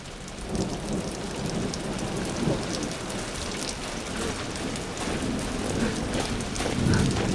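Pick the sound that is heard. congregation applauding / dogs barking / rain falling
rain falling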